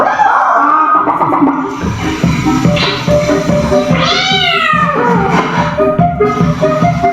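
Cat meowing in a short video played during a classroom lesson, with loud repeated mews including a drawn-out caterwaul, over background noise and faint voices.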